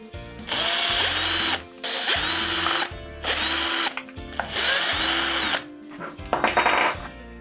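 A power drill spins out motor plate screws on a 1/8 scale Pro-Line Pro-MT 4x4 RC truck in four loud, close bursts separated by short pauses, ending in a few lighter ratcheting clicks.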